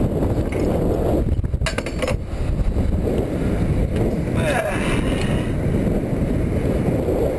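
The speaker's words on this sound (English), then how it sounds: "A little windy out here." Steady, loud wind buffeting the microphone outdoors beside a truck unloading steel, a constant low roar with a few faint clinks near the start.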